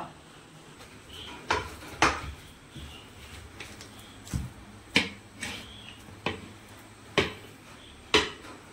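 Cooked tapioca being stirred and set in a pot, with a spoon knocking against the pot in sharp, scattered clinks at irregular intervals over a quiet kitchen background.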